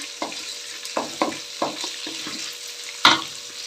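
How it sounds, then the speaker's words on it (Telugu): Ivy gourd fries with tomato in a pan, a steady sizzle broken by a series of scraping stirs that come roughly every half second, close and fairly loud, with no talking. "కొంచెం వేగనిద్దాము వేగనిచ్చి టమోటా వేస్తాము"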